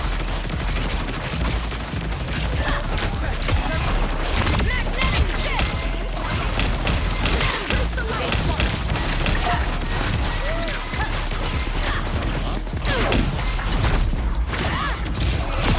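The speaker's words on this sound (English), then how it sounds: "Punisher's showing off his guns again." Dense, continuous gunfire and mechanical weapon clatter from the Punisher's guns in the hero shooter Marvel Rivals, loud rapid bursts layered with explosions and crashes throughout.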